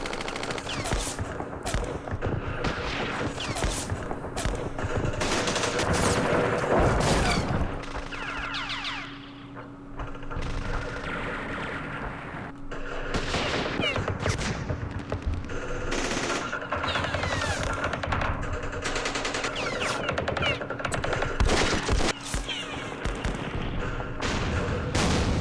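Sustained gunfire from the Campaign Series Vietnam wargame: dense machine-gun bursts and booming shots roll on almost without pause, loud and chaotic throughout.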